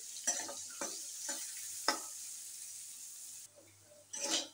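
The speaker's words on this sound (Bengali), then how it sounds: "কচুটা ভাজার সময় চুলার আঁচটা একদম মিডিয়াম আঁচে থাকতে হবে" Taro (kochu) frying in a pan over medium heat, a steady soft sizzle broken by several sharp stirring scrapes and clinks, close and fairly quiet, with no talk.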